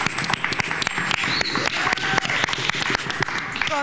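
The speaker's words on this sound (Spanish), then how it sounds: "Oye, un aplauso para Milagros Agurra." A studio audience on a Spanish-language talk show applauds a guest, with sharp individual claps standing out from a steady wash of clapping and a few whoops or whistles over the top.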